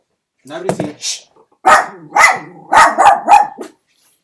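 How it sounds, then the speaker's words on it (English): Dogs bark nearby indoors in a run of loud, close yelps and barks, a couple of single barks and then a quicker cluster, with no other sound between them. "Yep, it's the dogs."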